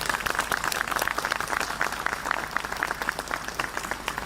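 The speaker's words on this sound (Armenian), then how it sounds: "առաջարկում եմ մի հատ մեր այսօրվա երթին ծափահարենք" A crowd applauds a march held that day at an outdoor gathering: dense, sustained clapping from many hands, even and unbroken throughout, with faint murmuring underneath.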